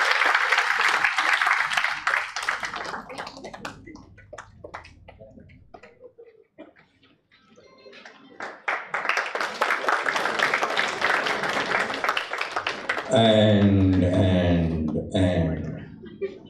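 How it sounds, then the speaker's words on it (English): Applause rises at a felicitation ceremony for a forensic medicine department, with clapping swelling in two waves around a quieter lull, then music-like tones at the end. "big round of applause"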